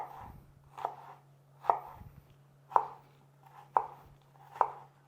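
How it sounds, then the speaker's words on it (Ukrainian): A knife chops a large onion into small cubes on a board, six crisp, evenly spaced thuds in a slow rhythm, close and clear with no talking. "І таким невеличким кубіком будемо кришити цибулю."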